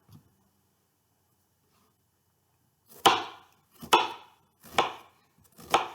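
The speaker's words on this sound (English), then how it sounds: "I'm just going to cut down the sides so that I have the same size of diced onions my whole way through" Kitchen knife dicing a red onion on a cutting board: four crisp, evenly spaced chops close up, following a few seconds of near silence.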